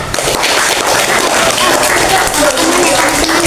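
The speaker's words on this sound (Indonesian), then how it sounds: "Beri tepuk tangan untuk kelompok sa." Loud, sustained clapping from a classroom group fills the clip, dense and steady for several seconds.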